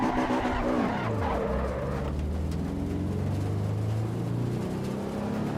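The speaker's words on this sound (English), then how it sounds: "I forgot about the engine sound." Steady, loud engine drone of a car in a driving video game, with sweeping pitch changes as it revs and shifts, continuous throughout with no talk.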